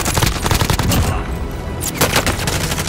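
Loud, rapid hostile gunfire in a battle-royale video game, sustained machine-gun bursts filling nearly three seconds with dense overlapping shots.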